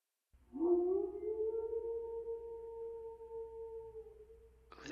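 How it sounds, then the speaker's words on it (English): A long, eerie howl from dogs in the PC game Eidolon rises and holds a steady, tonal pitch for several seconds, clear against near silence before a brief burst cuts in at the end. "That's dogs."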